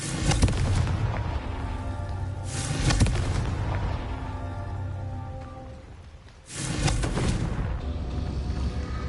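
Confringo fire spell blasts in the Hogwarts Legacy video game, sounding as loud, dense rumbling bursts that swell and fade in waves over a steady roar, with no talking.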